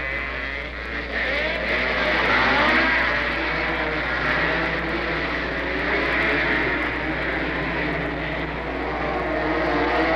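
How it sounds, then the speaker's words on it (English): 1971 Yamaha motorcycles racing on a dirt track, their engines roaring as a steady, loud, continuous drone that rises and falls slightly as riders bank through a turn, with no talk over it. "Coming into turn 4, Briggs banks his Yamaha like an airplane and smokes off one rider on the outside"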